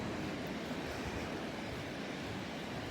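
Big waves break along a beach at high tide, producing a steady, dense roar of surf mixed with wind buffeting, even in loudness throughout and free of speech.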